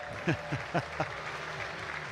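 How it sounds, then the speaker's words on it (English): At a Yorkshire Vikings versus Birmingham Bears cricket match, a distant crowd applauds faintly as a batsman walks out to the crease, while a commentator speaks over the clapping. "A nice applause for him, no boos."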